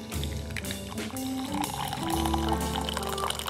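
Hot water poured out of a mug while preparing French press coffee, a steady splashing pour lasting several seconds over a constant tonal hum.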